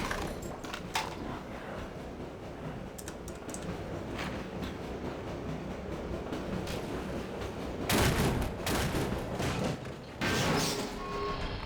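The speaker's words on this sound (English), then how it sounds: "stop shooting at me" Gunfire in Half-Life: Source comes as scattered sharp shots across a busy game soundscape, then a louder pair of bursts near the end, with no talking.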